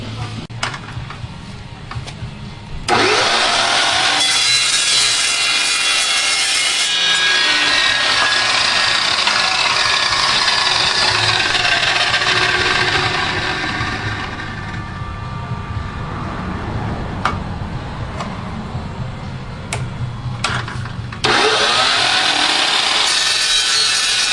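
Small metal pieces, about three inches, being cut to weld into a car's fenders with a power saw, a loud, steady grinding whine running nearly throughout and briefly easing midway before surging again.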